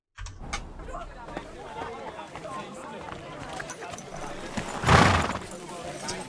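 Horse hooves clip-clop on a road in the video game Kingdom Come Deliverance 2, a steady stream of near footfalls under ambient game sound and voices, with a louder burst of movement near the end.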